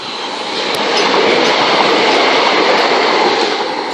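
A Class 377 electric train passes at speed on the Brighton Main Line at Honour Oak Park, a loud, steady roar and rush of wheels and carriages that stays close for several seconds with no talking.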